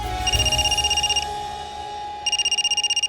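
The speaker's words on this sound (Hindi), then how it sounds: "पलक का फोन बज रहा है।" A telephone rings in two bursts of rapid trilling tones, loud and near, with a short pause between them.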